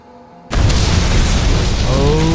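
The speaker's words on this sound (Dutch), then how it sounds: "Want er is voor mij net een explosie afgegaan hier in de wietplantage." A sudden, very loud explosion rips through a weed plantation in the video game Battlefield Hardline, bursting in after a short quiet lead-in and sustaining a heavy, rumbling roar with debris crackle until the end.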